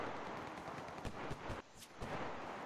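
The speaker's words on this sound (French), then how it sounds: "Ah, ça me tire dessus." Gunfire in the video game Enlisted, aimed at the player: a rapid burst of several sharp shots close by over a rough background noise, then a few more cracks after a short gap.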